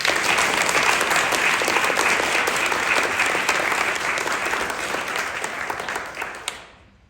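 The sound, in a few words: audience applause at awards ceremony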